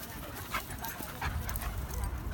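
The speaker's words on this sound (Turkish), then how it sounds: "Yine bir beagle geldi. Oyun oynarken." A female beagle plays at an outdoor dog park, panting and giving short whimpers and yips close by, over a busy background of other activity.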